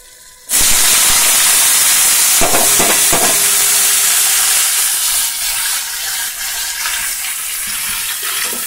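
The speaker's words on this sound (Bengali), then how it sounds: "লঙ্কা পেঁয়াজ দেওয়া হয়ে গেছে, তো ভালো করে ভাজা করে নেব।" Chopped onion and green chilli fry in hot oil in a pan with a loud, steady hiss that bursts in suddenly and continues unbroken, with faint clinks underneath.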